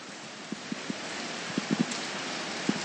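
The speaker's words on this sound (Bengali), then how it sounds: "কত জোরে বৃষ্টি পড়ছে" Heavy rain falling steadily during a downpour in Jalpaiguri, a constant close hiss with scattered louder drops tapping on a nearby surface, likely an umbrella.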